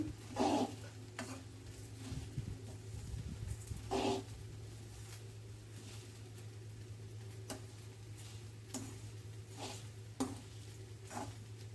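Curry leaves roasting in a pan for North Karnataka masala khara, a soft sizzle under repeated scraping strokes of a spatula against the pan, with a low steady hum throughout and no voices.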